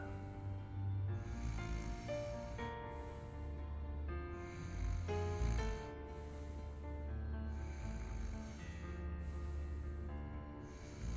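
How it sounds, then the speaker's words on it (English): Snoring in the video game Yesterday Origins: slow, repeated rasping snores that come and go in a steady rhythm, fairly loud, over a low continuous background. "Die with a leaf and you hear snoring"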